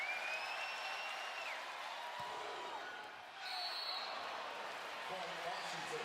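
A crowd at a college volleyball match cheers and applauds in a steady, broad roar that carries through the whole stretch, with a short dip partway through and an announcer talking over it.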